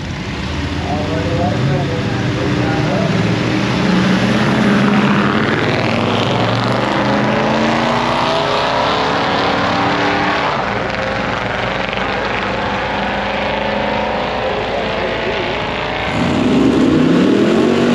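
Drag racing car making a pass at a grudge-match event, its engine roaring loud and rising in pitch through the gears, with people talking over the sustained mechanical noise.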